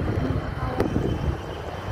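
An airplane lands at Soekarno-Hatta airport, its engines making a steady, broad, distant roar that is mixed with wind buffeting the microphone.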